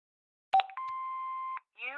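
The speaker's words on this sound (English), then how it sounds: "Hobbs's answer phone, and he's got messages." In the video game Broken Sword 5, an answering machine gives a clicking start and then a long steady electronic beep, clean and alone, followed by the start of a recorded voice.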